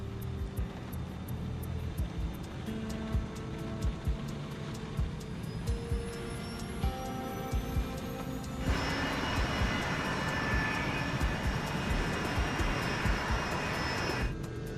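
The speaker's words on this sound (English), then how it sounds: "The crew taxis to the runway." An airliner taxiing to the runway in stormy weather, heard as a steady engine drone with rising whine tones and a broadband rush that grows louder partway through, with no talk.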